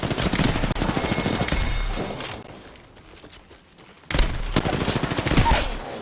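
Gunfire in Apex Legends rattles in dense, close volleys, fades to a quieter lull, then erupts again in heavy rapid bursts.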